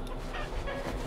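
Chickens cluck in a creepy village house in the video game Darkwood, a short burst of close, busy clucking over a low rumbling ambience.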